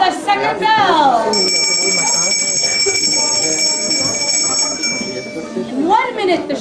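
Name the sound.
theatre bell ringing before show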